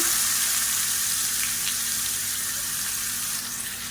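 Chopped onion frying in hot oil with curry leaves for a kulambu gravy, a loud, dense, unbroken sizzle heard up close that fades slightly toward the end, with no talking.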